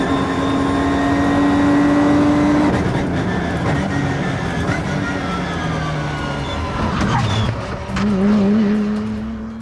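A Vauxhall Zafira race car is driven hard around a track, its engine droning loudly and continuously with pitch shifts through gear changes, tyres squealing as it brakes and corners.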